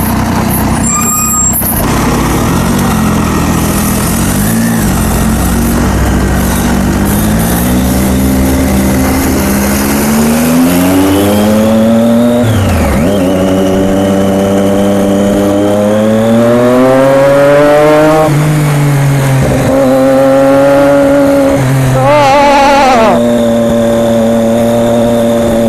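Motorcycle engine heard from the rider's position while riding, a loud steady drone that rises and falls in pitch as the bike accelerates and shifts, with other traffic passing nearby and an air-brake hiss early on.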